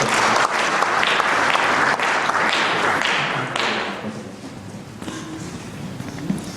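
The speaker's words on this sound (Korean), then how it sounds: "박수로 한번 정리해 주십시오." Applause from a crowd at a church pastors' association inauguration ceremony fills a hall, loud and sustained at first, then thinning into scattered claps as it fades.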